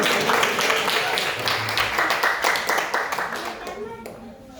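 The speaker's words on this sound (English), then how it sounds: "Let's give a round of applause for him" An audience claps in a round of applause at a Hare Krishna devotional gathering, dense and continuous for several seconds before thinning out and fading near the end.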